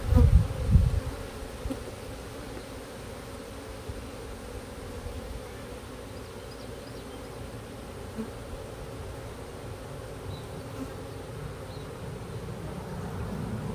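A hive of honeybees with swarm cells gives off a dense, steady buzzing drone close by, a short loud bump at the start and then an even hum throughout, with no voices.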